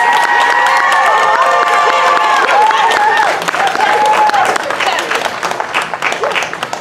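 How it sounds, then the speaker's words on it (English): Parents applaud and cheer at an elementary school 5th grade celebration, a loud sustained crowd clapping with some shouts, while voices talk and a melodic tone sounds over the first few seconds. "can we finish the celebration again with a wonderful applause for all these wonderful boys and"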